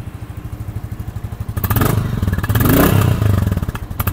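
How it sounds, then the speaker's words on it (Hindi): Royal Enfield Classic 350 motorcycle, 2024 model in Dark Gunmetal Grey with the company-fitted exhaust, idling with a steady thumping beat, then revved twice into louder, deeper swells before settling back to idle, heard up close. "एक बार आपको मैं इसका एग्जॉस्ट नोट सुना देता हूँ किस प्रकार का आता है।"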